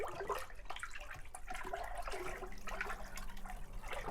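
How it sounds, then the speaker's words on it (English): Water being stirred after a quarter cup of Optimum B nutrient is added for hydroponics, a faint continuous swishing and sloshing of liquid, close by and without talk. "Going to give that a nice stir."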